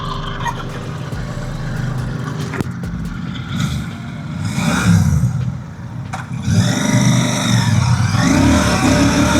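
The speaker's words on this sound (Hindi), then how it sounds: "Now go on a motorcycle ride and see how this motorcycle performs." Royal Enfield Classic 650 motorcycle engine running on a road ride in hot Ahmedabad traffic, a steady low rumble that swells as it accelerates around the middle and holds loud toward the end, with traffic noise around.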